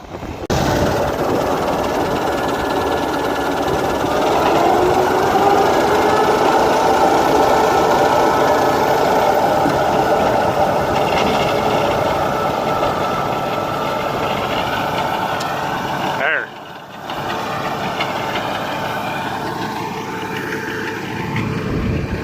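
A tractor engine drives a hay baler in a pasture, a steady loud mechanical drone with a constant rattling hum that runs on without pause and dips briefly near the end.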